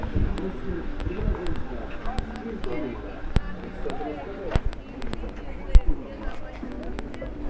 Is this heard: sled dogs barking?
no